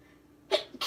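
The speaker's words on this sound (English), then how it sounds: "Excuse me, I have a sneeze." A single close, sharp human sneeze bursts out after a quiet moment, followed by a short breathy exhale.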